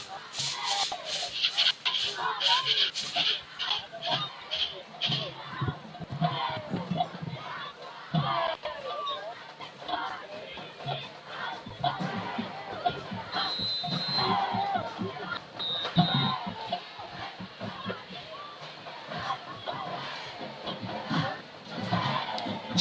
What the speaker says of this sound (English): Cheerleaders and band having a fun time. Trying to get the crowd hype.